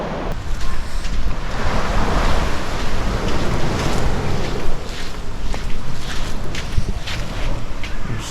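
Ocean waves at Thomas Beach in Bali, a continuous loud wash of surf with rolling swells and gusty wind buffeting the microphone, no voices.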